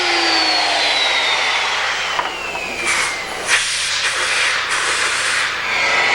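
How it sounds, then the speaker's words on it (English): A router cuts a mortise about 5/8 inch deep in a wooden conservatory post. It is a loud, close, steady high whine with hissing chip noise, and the pitch sags slightly as it bites into the wood. "A router is used to cut the mortise to a depth of about 5/8 of an inch."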